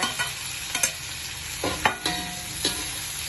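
Tomato and crushed garlic sizzle in hot oil for anchovy sambal, a steady bright frying hiss punctuated by a few spatula stirs and scrapes, with no voices.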